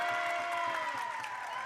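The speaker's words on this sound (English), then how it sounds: "And the cheer from the crowd." A crowd cheers and claps at a boys' high school basketball game between Freeport and Gardiner, a sustained wash of voices and applause at moderate level with no pauses.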